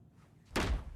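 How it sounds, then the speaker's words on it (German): One heavy, dull knock lands on a door in the video game Alan Wake II, a single close thud after a quiet moment. "dass da die ganze Zeit so eine Wahnsinnige gegen die scheiß Tür klopft"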